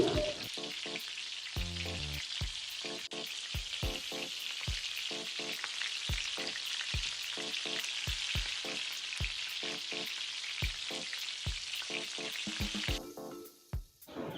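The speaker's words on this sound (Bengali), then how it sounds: "এগুলো ভালো করে ভেজে নিয়ে এর সঙ্গে দিয়ে দিচ্ছি পেঁয়াজ কুচি" Chopped onion fries in oil with panch phoron, dried red chilies and a bay leaf, a loud, steady sizzle broken by regular sharp scrapes of stirring until it cuts off near the end.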